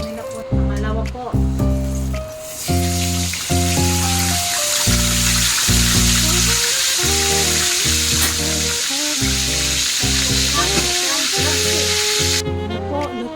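Marinated milkfish, daing na bangus soaked in vinegar, frying in oil with a steady bright sizzle and crackle under loud background music with a regular rhythmic beat that runs throughout.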